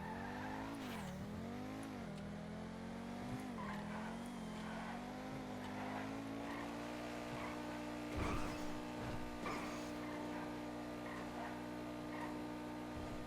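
Game car in GTA revving and shifting gears through rising and falling engine pitch, with brief tire squeal and skidding, a steady close engine drone throughout.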